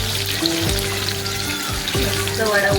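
Fish coated in masala sizzles in hot oil for a vada fish fry, a steady close crackle with occasional stirring clatter, cooked the way fairground stalls make it; no talking.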